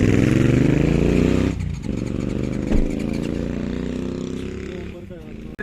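Motorcycles ride along a mountain road in Uttarakhand, their engines a loud, continuous close drone that swells and eases as bikes pass, with a voice talking over the noise.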